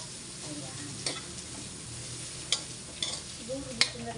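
Liver frying for batchoy, a close steady sizzle in the pan with occasional sharp scrapes and knocks of a stirring utensil, no talking.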